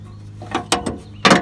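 A 3/8-inch ratchet starts a bolt on a riding lawn mower's starter solenoid, giving a few close, short clicking bursts with brief pauses between them.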